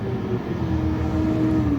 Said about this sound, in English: there's like a garbage truck out there